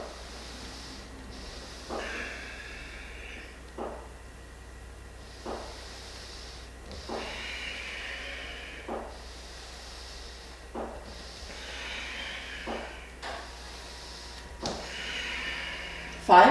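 Heavy, forceful exhales repeat at a regular pace during a yoga ab workout, each one a sharp breathy puff with quieter pauses between, close by and without talk.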